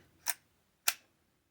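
Two crisp, isolated mechanical clicks about half a second apart from the shutter of a vintage still camera with no speed adjustment, close and quiet against near silence.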